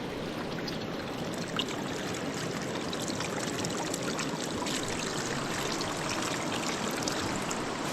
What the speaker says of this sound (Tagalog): Ito po ay bukal.